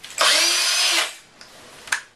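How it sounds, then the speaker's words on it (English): A fully charged, battery-operated cordless drill whirs loudly and steadily for about a second, then stops, followed by a faint click and a brief second burst at close range. "here I have my fully charged, battery-operated drill"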